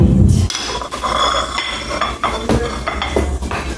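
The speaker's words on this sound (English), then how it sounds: "I'm gonna grab a plate" Plates and cutlery clatter as a plate is taken out, with sharp ceramic clinks and knocks, close and loud, scattered unevenly over a few seconds.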